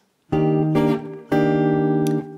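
Jazz guitar chords strummed in short bursts with a brief muted gap between them, then a final chord that rings on, close and clear.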